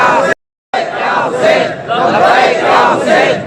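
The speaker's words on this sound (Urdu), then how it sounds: "اب لبیک یا حسین کے نعرے بلند ہو" A large crowd at a Labbaik Ya Husain religious conference chants the Labbaik ya Husain slogan in loud unison, a brief gap of silence breaking the start before the massed voices swell and continue in rhythmic waves.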